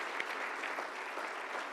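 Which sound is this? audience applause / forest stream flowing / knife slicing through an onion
audience applause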